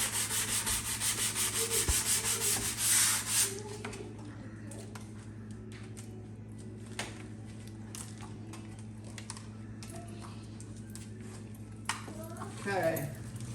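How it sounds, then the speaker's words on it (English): Light hand sanding along the edge of a white concrete countertop form for a kitchen island, a steady scratchy rubbing with scattered clicks and a low background hum. "we just kind of lightly sand the edge here and then snap the form off"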